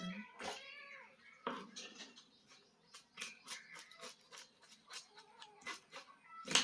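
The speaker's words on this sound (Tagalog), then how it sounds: "Makulit yung pusa namin, guys." A pet cat meows repeatedly in a home kitchen, several drawn-out, insistent cries spaced across the stretch, fairly close, with no talking over them.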